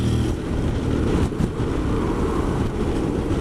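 A 2021 Honda Forza scooter accelerating in standard mode, heard as a steady engine drone that rises in pitch under heavy, gusty wind and road noise from the rider's position.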